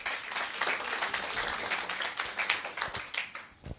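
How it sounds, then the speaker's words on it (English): An audience at a childcare forum claps and applauds in a dense, sustained patter of hands that gradually thins toward the end. "let us give them a better clap than that."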